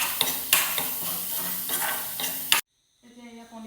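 Onion and spice masala for a paneer curry frying in a pan, with a continuous sizzle and a few sharp stirring scrapes. It stops abruptly near the end, followed by brief silence.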